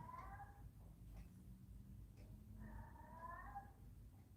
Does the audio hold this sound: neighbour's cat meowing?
yes